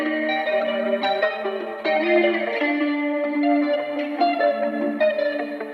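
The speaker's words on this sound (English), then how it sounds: "And then we also add a guitar loop in there." Guitar loop washed in reverb with its lows EQ'd out, playing steady layered chords and picked notes throughout, alone and upfront with no voices.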